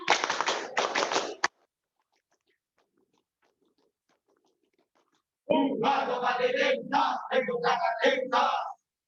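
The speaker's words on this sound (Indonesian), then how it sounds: "2 kali tepuk pramuka." A group performs the Indonesian scout clap, tepuk pramuka, twice: two loud bursts of rhythmic clapping and group sound, separated by a long silent pause.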